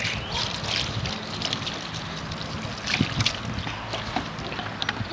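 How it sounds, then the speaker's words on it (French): Water emptied from a watering can splashes steadily over an RC model car body, a continuous broadband wash with small irregular surges, close and fairly loud, with no talking. "Et donc là on va vider tout le reste de notre arrosoir"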